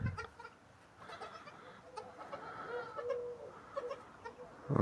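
A young goat, offered for sale on a farm, gives short, faint bleats scattered through a quiet outdoor scene, with some chicken-like clucking and rustling nearby and a louder knock at the end.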